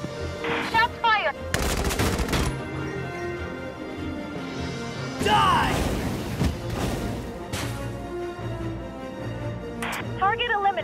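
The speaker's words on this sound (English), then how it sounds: "Shots fired!" Gunfire in the wartime strategy game Valkyria Chronicles 4: sharp rifle and machine-gun bursts, loud and close, mixed with game music and voices.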